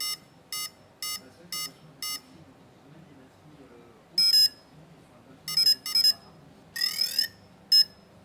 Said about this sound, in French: Il indiquera par un bip quand il aura fini la calibration.